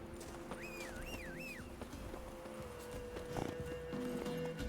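Roach, the horse in The Witcher 3, gallops with steady rhythmic hoofbeats, and a whinny rises early over the running. Game music and ambience sit beneath it.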